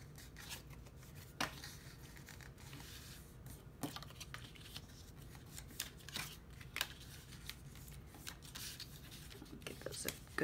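Paper edges being folded over and burnished by hand, with soft rubbing, crinkling and scraping strokes, occasional sharper creasing snaps, close up and alone.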